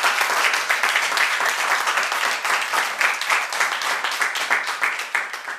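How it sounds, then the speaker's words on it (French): Audience applause for a salsa musician at a studio show, a steady, lively burst of many hands clapping close and loud, with no talk over it. "Public, que je vous demande à applaudir, s'il vous plaît."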